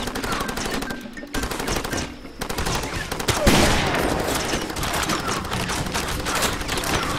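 Rapid automatic gunfire in Far Cry 2, dense bursts of machine-gun shots with brief pauses, one heavier blast midway, loud and close with distant shots layered behind.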